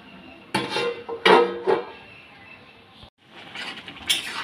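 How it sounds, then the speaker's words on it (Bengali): A metal plate set down over a pot of bottle gourd and shrimp curry, giving a few sharp clanks and scrapes of metal on metal close by, with a pause and then a further rattle. "থালা দিয়ে আমি চাপা দেবো"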